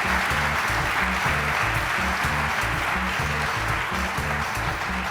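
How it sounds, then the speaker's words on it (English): A conference audience applauds after a talk on cognitive design at a UX event. The clapping is loud, dense and continuous with a rhythmic pulse, and no one speaks over it. "Manuel Lima, on l'applaudit bien fort."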